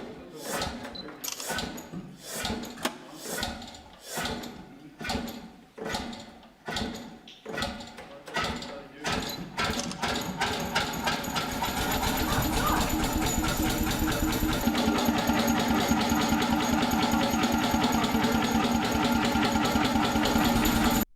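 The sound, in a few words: antique hot bulb engine starting and running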